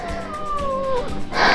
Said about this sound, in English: He's such a cute little baby cat